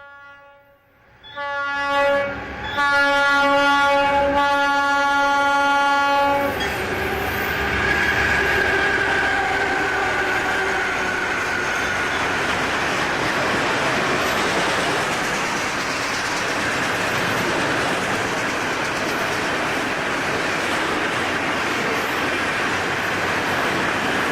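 FEC freight train number 125, the cleanup train out of Bowden Yard, rolls through Bunnell, Florida: a loud multi-tone horn blast sounds for several seconds, then a steady close roar of the passing train continues.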